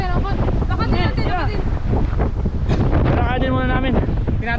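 Strong wind buffets the microphone during uphill biking on Bokor Mountain in Cambodia, a loud constant rumble with voices talking over it.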